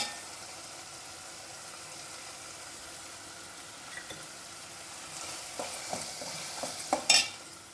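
Grated carrot sautés in a pan with curry leaves and mint for vegetable wheat upma: a faint, steady sizzle that grows busier toward the end, with several sharp utensil scrapes and clinks near the close.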